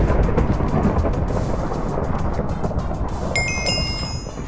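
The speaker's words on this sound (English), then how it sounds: "Lightning strike." Rolling thunder from a lightning strike in the Minecraft Wizards survival game, a loud sustained rumble filling the whole stretch with a brief higher tone near the end.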